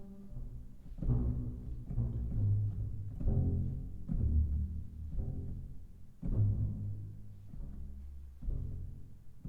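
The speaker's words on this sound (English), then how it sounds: "Bass sounds like this." Bass line for an original song composed for a player character, with low, sustained notes entering in repeated phrases at a steady, moderate volume, no voices over it.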